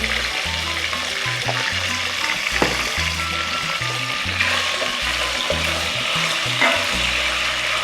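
Shrimp cooking with garlic in a pan for Spanish garlic shrimp, a close, steady oily sizzle and crackle with scattered sharp pops throughout, under a low rhythmic hum from the stove.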